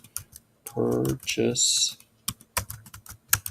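Typing on a computer keyboard, close rapid key clicks in short bursts, with a person speaking in between.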